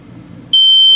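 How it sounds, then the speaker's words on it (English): A smoke alarm inside a Surveyor 260BH travel trailer bursts on abruptly with a loud, shrill, continuous beep, cutting in halfway through after low, quiet voices. "smoke alarm"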